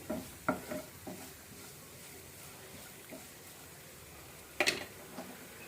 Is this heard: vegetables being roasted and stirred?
yes